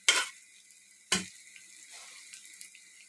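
Rice stirred and sautéed in ghee in a home kitchen pan: two sharp bursts of scraping sizzle, each fading into a softer crackle, close and alone without talk.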